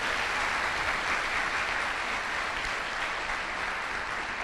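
Seminar attendees at a business talk clap together, a continuous even wash of applause at moderate level with no talking over it.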